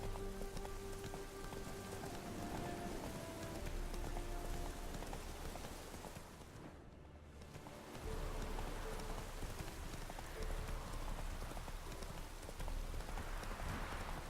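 A horse's hooves clip-clop in a steady gallop through rainfall in The Witcher 3 video game. The rhythmic hoofbeats sit over a constant hiss of rain, with a brief dip partway through.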